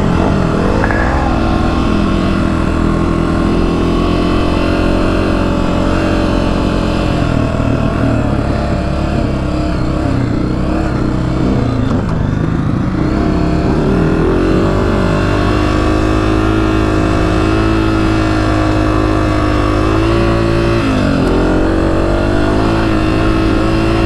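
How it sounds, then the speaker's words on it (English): A Honda CRF150R race dirt bike rides through a hot desert on soft sand. Its engine roars loud and close the whole time, revving up and easing off with a buzzy, rising and falling pitch. "that's a 150R that Nick's riding. And dude, for a 150, that thing absolutely rips"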